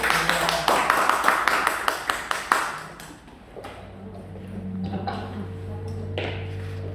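Church congregation claps together during a worship service, a dense run of hand claps for about three seconds that then fades into murmuring voices and a sustained low musical tone.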